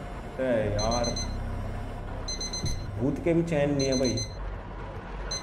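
An alarm clock rings inside the horror video game Suffer The Night, repeated bright electronic beeping bursts in several rhythmic clusters, loud and close, while someone talks over it.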